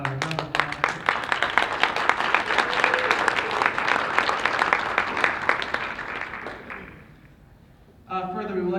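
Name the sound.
applause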